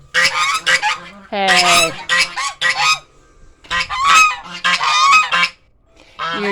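Geese loose in their goose lot honk loudly and close by in repeated overlapping bursts, and a person briefly calls out among them.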